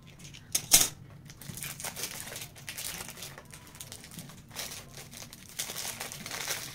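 Crinkling and rustling of packaging as a Faberlic fragrance box is opened, with soft irregular crackles and a sharper crinkle near the start, close and fairly quiet.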